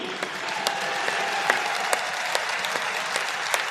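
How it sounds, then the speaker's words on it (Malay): A crowd at the UMNO general assembly gives Datuk Seri Hasni a standing ovation, a dense, sustained wash of applause with scattered sharper claps rising above it. "Kita bagi tepukan gemuruh kepada Datuk Seri Hasni."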